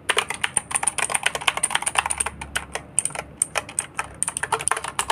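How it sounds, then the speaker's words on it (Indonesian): Rapid, clicky typing on a compact Gamen Titan II mechanical keyboard with blue switches, a close, dense stream of sharp key clacks in an irregular rhythm, no talking. "kalau blue switch rata-rata emang suaranya begini teman-teman ya, bagus ya, tidak terlalu berisik"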